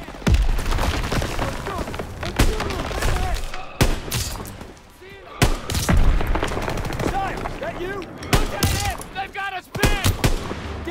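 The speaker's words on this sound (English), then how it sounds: "Gunfire!" Heavy gunfire in the World War II shooter game Call of Duty: WWII, with loud, dense bursts of rifle and machine-gun shots, booms and impacts. Voices shout over the constant barrage.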